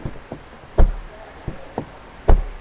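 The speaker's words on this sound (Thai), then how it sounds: "คุณฟังเสียงปิดประตูนะ โคตรแน่นเลย" Doors on a HAVAL Jolion hybrid with 190 horsepower are shut, giving two solid, deep thuds among a few lighter knocks and taps, close by and with no speech.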